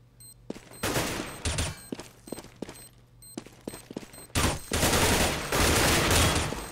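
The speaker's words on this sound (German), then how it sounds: "Ein Schuss noch drin gewesen, Mack." Rapid bursts of Counter-Strike gunfire on de_inferno at a DreamHack tournament match crackle in clustered volleys, then a long sustained stretch of heavy automatic shooting, loud and close.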